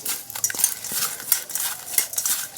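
Prawns are tossed quickly with salt in a bowl, giving rapid, close scraping and clinking of a utensil against the dish in an irregular, busy rhythm.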